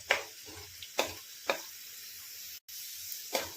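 Sliced onions sautéing with a pinch of sugar in a pan for egg biryani, a soft steady sizzle broken by several sharp scraping stirs at uneven intervals.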